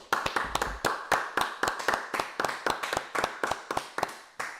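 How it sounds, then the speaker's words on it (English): A group clapping together at a Tuesday night brotherhood class, a steady run of sharp, fairly close hand claps in a quick rhythmic beat, with no one talking over them. "Hey, clap it up."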